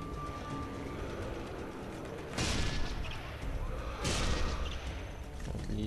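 Sniper rifle gunfire in the video game Sniper Elite 3: two heavy, broadband shots about two seconds apart, booming over a steady wash of battlefield noise.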